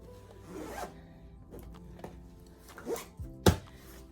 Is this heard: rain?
no